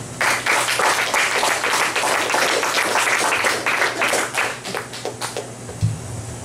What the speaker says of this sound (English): Please give a warm, festive applause for the likes of Kathleen Cosgrove.